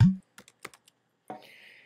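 A few scattered keystrokes tapped on a computer keyboard while searching in a Linux software center, quiet and close, followed by a brief higher-pitched electronic tone.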